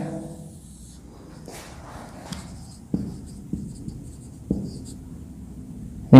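A pen writing an electronic configuration by hand on paper, soft scratchy strokes with a few sharp taps, close and quiet, without talk.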